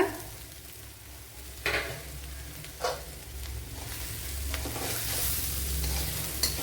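Boiled quail eggs frying in a pan as they are stirred, a steady low sizzle broken by a few sharp scraping strokes of the spoon, growing a little louder toward the end.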